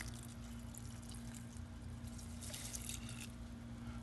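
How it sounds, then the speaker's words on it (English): Water poured into a rock tumbler barrel holding coins from metal detecting, a continuous close trickling splash over a steady low hum. "add in some water"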